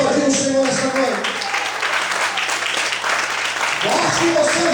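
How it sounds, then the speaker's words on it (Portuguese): Church congregation applauding during an evening sermon, a sustained wash of clapping with voices and musical tones mixed in underneath. "Quantos podem aplaudir o Senhor nessa noite?"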